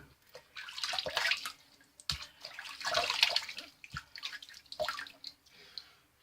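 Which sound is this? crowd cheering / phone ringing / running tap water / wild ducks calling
running tap water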